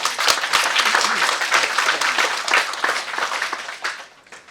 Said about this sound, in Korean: 이때쯤 되면 박수 한번